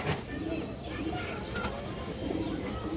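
Pigeons, including Indian high flyers, coo repeatedly close by in a bird-selling setting, their soft throaty calls layered over faint background chatter.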